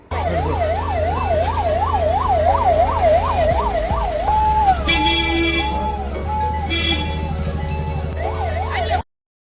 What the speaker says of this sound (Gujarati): તો અહીંયા ઇમરજન્સીમાં ગાડીઓ આવી ગઈ છે, એમ્બ્યુલન્સ અને 108 ને બધા જ આવી ગયા હોય